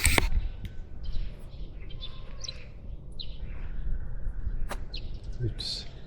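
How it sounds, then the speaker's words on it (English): Birds on an early-morning walk, scattered short chirps and tweets at moderate distance over a soft outdoor background, with a few sharp clicks mixed in. "Look at the chirping sound."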